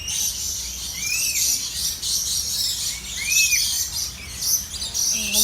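Birds chirping at Jurong Bird Park, several bright high tweets and short swooping calls close by over a hissy background of insects and ambient noise.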